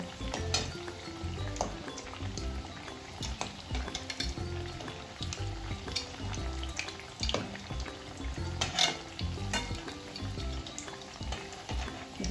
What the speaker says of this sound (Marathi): त्याला बदामी कलर यायला पाहिजे अशी तळून घ्यायची